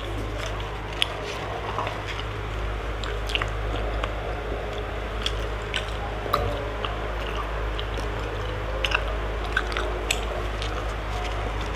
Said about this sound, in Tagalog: May gusto kong sabihin, kaya ngumunguya ako.